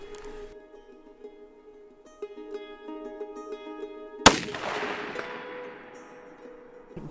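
A single loud rifle shot cracks out partway through, fired from a hasty sling sitting position at a 250-yard target, its report ringing and decaying over the following seconds after a steady tonal hum.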